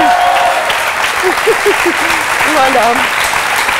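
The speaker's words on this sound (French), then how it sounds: "On applaudit Jérôme, qui est passionné de la Polynésie." A studio audience at a pilot taping of a French TV game show applauds steadily throughout, while a voice speaks briefly over the clapping.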